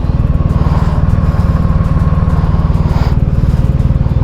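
A heavy six-cylinder motorcycle engine runs steadily nearby, a loud, smooth, even throb held the whole time with a slight swell near the end and no talking.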